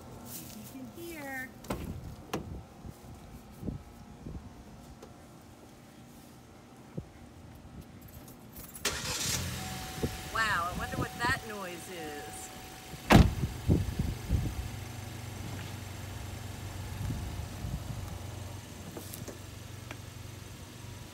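A car engine cranks and catches, then settles into a low, steady idle, heard from inside the car. Someone talks over the quieter rustling and clunks of getting in, and a click comes just before the engine starts.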